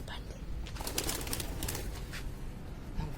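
Pigeons being released and settling flutter their wings in short bursts, mixed with soft cooing, heard at moderate distance under steady outdoor background noise and faint voices.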